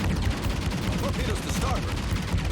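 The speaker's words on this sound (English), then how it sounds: "There we go, anti-aircraft guns are coming up." Anti-aircraft guns firing aboard a Japanese Tenryū class cruiser in World of Warships, a rapid continuous clatter of shots, loud and close, layered over steady battle noise.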